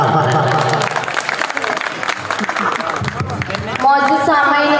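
Audience applause welcoming a guest poet at an evening mushaira, loud and dense clapping sustained throughout with crowd murmur, swelling near the end.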